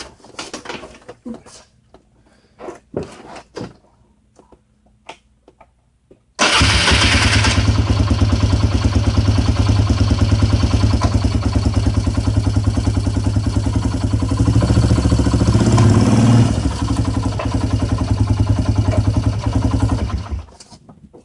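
A 2008 Polaris Sportsman 300 ATV starts after some quiet clatter and handling, then runs loud and close as it drives in four-wheel drive, its engine revving and pulling steadily before easing off at the end.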